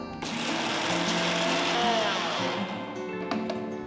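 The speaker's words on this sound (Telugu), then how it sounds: "ఒకసారి వీటిని బాగా మెత్తటి పొడి అయ్యేట్టు రుబ్బాలి" A mixer grinder whirs as it grinds cooled, roasted sambar spices into a fine powder in its jar, starting abruptly and then holding a loud, steady motor drone close by.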